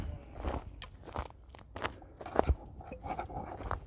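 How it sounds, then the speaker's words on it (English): Footsteps crunching over frozen ground on a woodland trail walk, a steady series of close, crisp crunches with irregular rhythm and no talk. "The ground is definitely frozen because we are walking on stuff and it's crunching and we're not on gravel."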